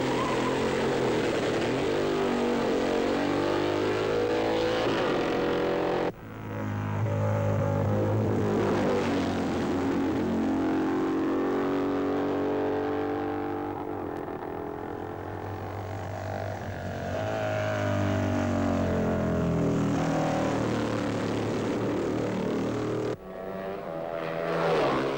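Racing motorcycles at the 1958 North West 200 road race in Northern Ireland, 350 and 500 class machines at record lap speeds, roar loudly and continuously for the whole stretch, engine drone rising and falling as bikes pass close by.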